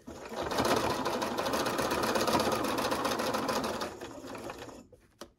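A sewing machine runs steadily at speed for several seconds, a fast even rattling stitch, while quilt pieces are sewn along their sides, then slows and stops with a final clunk.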